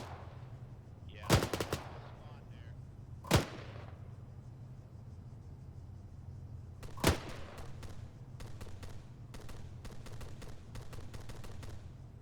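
Gunfire in the ArmA 3 military game: three isolated sharp shots early on, then a rapid string of bursts from a machine gun toward the end, all over a steady low engine-like hum.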